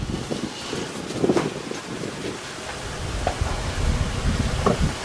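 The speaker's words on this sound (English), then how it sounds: "Look at how windy it is. Pretty extreme weather for us." Steady strong wind at a beach buffets the microphone with low rumbling gusts and a broad rushing hiss, continuous throughout with no voices.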